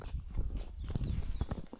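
A horse's hooves clip-clop along a hiking trail on the Camino de Santiago in Spain, a short run of close, uneven knocks with faint background noise.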